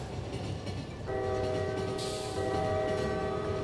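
Train approaching in the management game Lobotomy Corporation, a steady low rumble rising in level with sustained horn-like tones holding through the passage, loud and alone.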